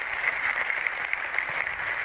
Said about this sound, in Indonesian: Tepuk tangan buat Bunda yang pertama.